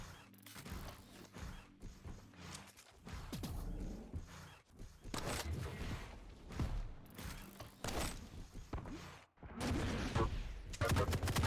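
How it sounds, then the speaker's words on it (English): Quake Champions combat brings rapid bursts of weapon fire, explosive blasts and mechanical clatter, with orb and rocket shots landing in dense, uneven clusters that stay loud from start to finish. "lots of damage coming out from Ryder with that orb and rocket combo"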